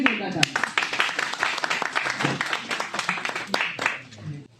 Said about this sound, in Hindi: विवेक के लिए जोरदार ताली।